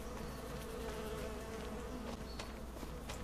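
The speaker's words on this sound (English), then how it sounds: "you make a lot of buzzing noises, but not much else there, bees" Bees buzz in the farming video game Farming Simulator 25, a faint steady drone under a quiet ambient bed, with no voices.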